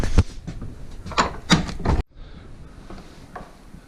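An old door in a cluttered outbuilding is untied and pushed open, giving a burst of close knocks, rattles and wooden clunks for two seconds, then dropping to a quiet, faint scraping.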